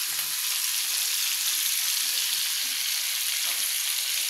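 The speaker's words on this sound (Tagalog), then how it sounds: "Piprito lang natin to, no?" Fresh tofu pieces fry in a pan for adobong kangkong. A loud, bright, even hiss of oil runs without a break, close by and with no voices.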